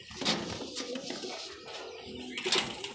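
Pigeons kept on a rooftop loft on a scorching 46-degree day coo softly in short, faint bursts against a quiet background, with no one speaking.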